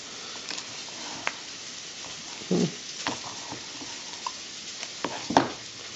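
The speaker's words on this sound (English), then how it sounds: "So you gotta mix it pretty well here." Flourless peanut butter cookie dough with egg is mixed by hand in a bowl, producing soft scraping stirs and scattered thick, sticky thuds and clicks against a quiet background.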